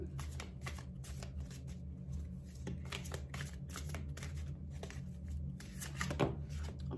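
Oracle cards are shuffled and handled up close in a quiet room with repeated soft riffling and flicking at an uneven rhythm. Faint talk can be heard at moments.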